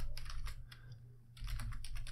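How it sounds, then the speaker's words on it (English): Quick bursts of keys clacking on a computer keyboard while a command is entered, close and steady, with a short pause in the middle before another run of keystrokes. "And type in git clone https"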